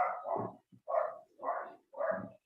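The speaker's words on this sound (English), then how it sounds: "That's my dog." Several low, muffled barks from a dog come in an uneven series of four or five, faint and somewhat distant-sounding, with no talk over them.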